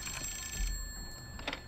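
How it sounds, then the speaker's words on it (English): Telephone ringing in a horror video game, a steady electronic bell tone that holds with a brief pause midway, set against a low rumbling ambient background. "Now the phone rings."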